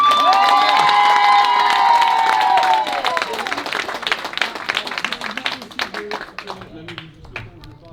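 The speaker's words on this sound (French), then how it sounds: "est-ce qu'on peut encore les applaudir bien fort s'il vous plaît?" Wedding guests applaud and cheer loudly for a couple, with whistles and whoops over a dense wash of clapping that slowly thins out toward the end.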